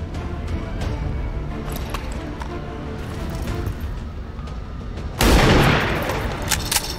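Incoming gunfire strikes the player during an alien shooter game, a sudden loud burst of impacts near the end after a stretch of low rumbling ambience and scattered small pops.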